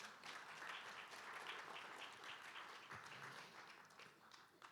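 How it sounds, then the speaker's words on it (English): An audience at a panel event on AI for development applauds steadily, a continuous wash of many hands clapping, faint and distant, with no voices standing out. "So keep clapping."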